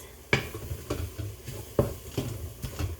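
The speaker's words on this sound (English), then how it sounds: "I'm just going to mix that around so it coats the veggies" Vegetables are stirred in a pan to coat them, with a series of sharp scraping clatters of the utensil against the pan at a steady rhythm over a soft, low sizzle, close by.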